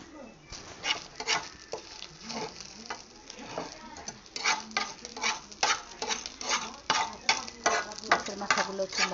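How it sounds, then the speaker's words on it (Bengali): Small fish heads frying in a pan over a gentle flame, a soft continuous sizzle broken by crackling pops and scraping stirs, close and fairly quiet with no talk. "মাছের মাথাগুলো একটু লাল লাল ভাজা হবে"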